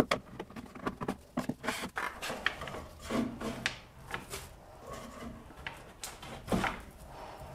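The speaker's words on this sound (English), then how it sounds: "I am gonna scrape as much up as I possibly can" A scraper drags paint stripper and softened paint off a wooden chest of drawers, a close run of irregular rasping scrapes and rubs with uneven rhythm, moderately quiet and without talk.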